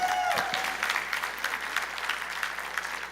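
A church congregation at a Seventh-day Adventist service applauds, a dense wash of clapping that runs steadily throughout without pause, with no speech over it.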